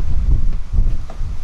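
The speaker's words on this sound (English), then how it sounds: "since it is nice and windy" Wind blows outdoors, buffeting the microphone with a brief, loud low rumble that swells and fades in gusts.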